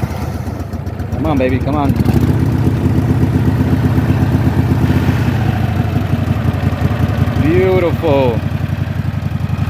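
Small engine, choke on with slight throttle, starts and settles into a steady close rumbling idle, with someone talking over it at the start and again near the end.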